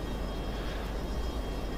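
A concept F-16 with a tailless delta-wing design flies past in the F22 Total Air War flight-sim game, its engine a steady broadband roar with a constant low rumble and no pauses, heard alone.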